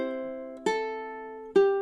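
A ukulele plucks single notes from the outro of a song, with three distinct picked notes that ring and decay one after another, soft and close with no voices.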